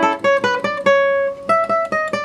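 A bright plucked requinto guitar melody of quick repeated notes and short runs, close and clear, with ringing high strings and no voices.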